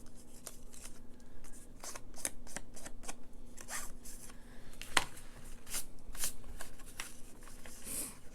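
Scissors snip out a paper cutout for a coffee-dyed journal made from Dollar Tree supplies. Quiet, close cuts and paper rustles repeat steadily, with one sharper snip in the middle.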